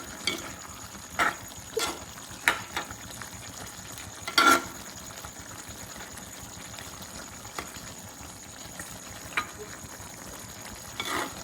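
Onions, green chillies and curry leaves frying in a pan for a conch curry, a quiet steady sizzle broken by occasional louder stirring clatters and scrapes.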